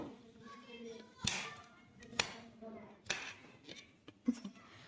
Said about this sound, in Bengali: আমি এখানে চামচ দিয়ে কাটছি